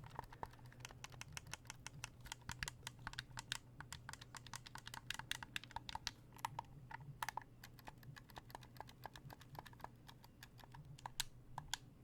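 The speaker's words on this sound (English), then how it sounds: "Xbox controller sounds because Xbox gang." Xbox controller buttons clicking during Fortnite gameplay, rapid soft irregular clicks close to the mic over a low steady hum, no speech.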